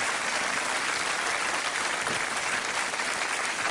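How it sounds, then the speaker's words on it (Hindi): A studio audience on the quiz show Kaun Banega Crorepati applauds in sustained, dense clapping at steady volume throughout. "और तालियां बजती रहे"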